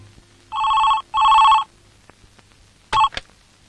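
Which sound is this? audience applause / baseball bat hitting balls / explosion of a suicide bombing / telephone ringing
telephone ringing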